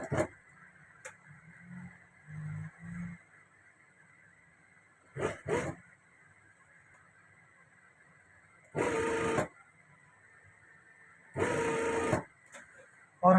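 A sewing machine stitches the lining of a prince coat during an alteration. Two loud bursts of stitching, each about a second long, stand out from a quiet background with a few soft clicks and handling noises between them.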